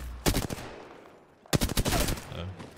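Bursts of R301 rifle fire in a video game, two dense rapid volleys separated by a short pause, loud and close.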